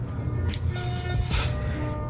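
An aerosol can sprays onto a synthetic lace-front wig in two short hissing bursts, close by, over a low background hum.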